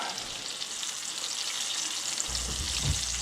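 Fish fillet, perch or sunfish, frying in a pan with a steady, close hiss and crackle that holds throughout, a low thump and stir near the end, no talking.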